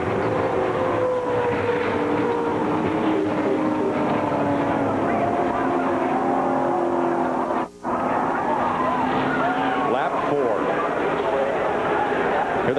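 NASCAR stock cars at the Jack's Link's 500 head toward the flag after a multi-car crash, making a loud, continuous engine drone with shifting pitch. A race commentator talks over the noise.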